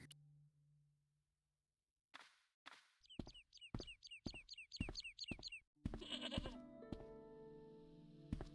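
A goat in the Broken Sword game giving a run of quick, nasal bleats in a rhythmic series, followed by thuds and a sustained tonal noise.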